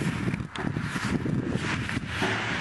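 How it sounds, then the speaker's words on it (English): Gusty wind buffets the microphone outdoors with low rumbling thumps and broadband rustling, continuous throughout with no clear speech. "it's very, very windy out today"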